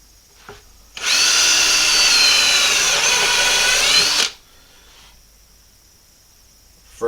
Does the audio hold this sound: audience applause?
no